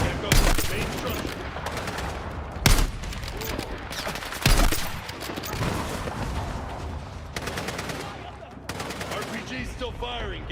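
Video game gunfire in a combat scene with an RPG, bursts of rapid automatic fire and several sharp heavy shots set against continuous battle noise, with voices calling out between the shots.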